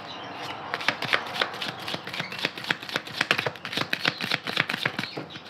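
A deck of oracle cards is shuffled and cut by hand, giving a close run of quick crisp riffling flutters and slaps that repeat in uneven bursts with no talk.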